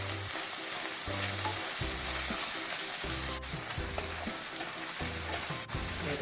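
Mint leaves and green chilies sautéing in oil in a pan for a road-side salna, a close, continuous loud sizzle with periodic scraping stirs, no voices.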